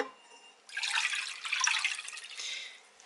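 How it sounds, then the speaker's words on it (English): Water poured from a container into a cooking pot on a stove for ramen noodles, a splashing gush that starts after a brief quiet moment and runs for a couple of seconds, close and moderately loud. "you're gonna dump the water in."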